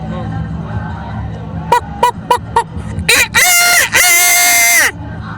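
A rooster crows loudly and close by, preceded by several short clucks and then long drawn-out calls, with a low background murmur underneath.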